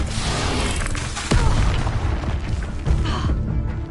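Incendio fire spell cast in Hogwarts Legacy, a loud booming burst near 1.3 seconds and another around 2.9 seconds amid continuous combat noise, with no talking.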